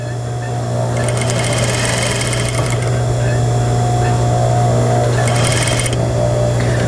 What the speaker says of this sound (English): I'm going to then turn the machine to the regular stitch length and continue down.